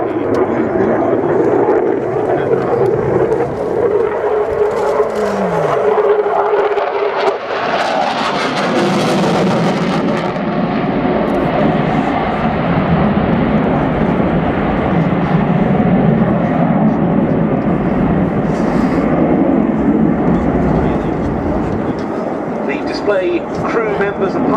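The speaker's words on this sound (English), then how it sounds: "The aircraft being flown for us today by the new Dutch F-16 display pilot for this and next season, Captain Jeroen Slick Dickens." A Dutch Air Force F-16 fighter jet flies an air display at an airshow, its loud broad roar swelling and shifting over time as the jet passes, with a louder surge partway through.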